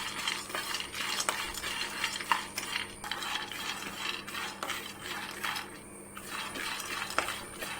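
Skinless peanuts and almonds stirred together in a hot pan while dry-roasting, giving a steady run of light rattling clinks and scrapes that pause briefly near the end.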